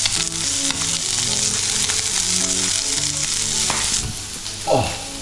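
Crayfish boil in an open pot with lemon and black pepper, a loud continuous bubbling sizzle up close, with steady tonal sounds underneath and a brief swell near the end.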